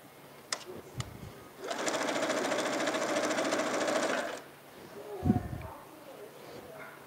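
Sewing machine stitching a quilt block runs in one steady, close whirring burst of about three seconds, framed by a few clicks and soft handling sounds, with a voice speaking briefly near the start.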